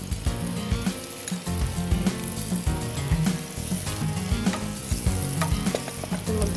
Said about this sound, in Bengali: এখন প্রথমে আমি একটু পেঁয়াজ কুচি দিয়ে নিব, একদমই অল্প। আপনি দিন, আমি নাড়তে থাকি।